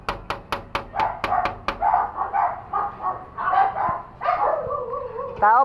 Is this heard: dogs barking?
yes